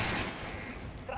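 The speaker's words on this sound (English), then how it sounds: "Now shoot the armored dummy." A gun in the Metro Last Light Redux game fires a dense run of shots into an armored training dummy, with steady and loud shots throughout.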